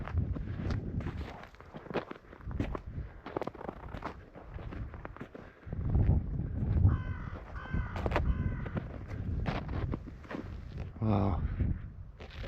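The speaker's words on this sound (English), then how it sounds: "Three crows on the roof." Three crows caw from the roof of an old barn or shed in an outport village, with repeated harsh calls over footsteps and someone talking.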